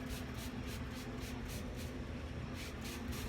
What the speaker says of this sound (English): Spray it on there good.